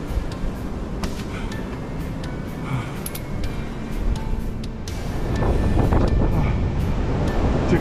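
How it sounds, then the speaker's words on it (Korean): Strong winter wind roars across the summit of Cheonwangbong on Jirisan, a continuous rough rumble with sharp gusts that build louder toward the end. "바람 소리 들리시죠?"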